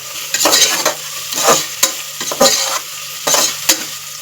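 Chopped onion and green chili fry in a pan for tomato bath, stirred in bursts so the loud sizzle swells and fades with spoon scrapes against the metal, close by and free of voices.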